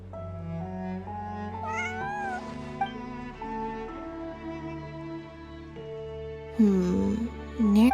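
A cat meows repeatedly in the video game Genshin Impact, with drawn-out, gliding calls over steady background music, ending in a louder, whiny yowl near the close.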